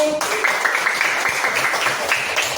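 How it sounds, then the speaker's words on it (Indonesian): Classroom of teachers in a coaching workshop clapping for the first group, a brisk close burst of many hands with a raised voice briefly audible at the start. "beri tepuk tangan untuk kelompok 1 dulu"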